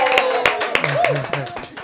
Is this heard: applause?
yes